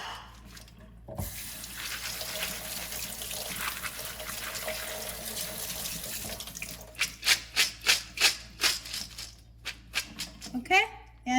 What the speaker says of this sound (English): Just give a rinse.